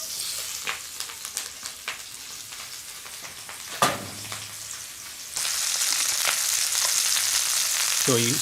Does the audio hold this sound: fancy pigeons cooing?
no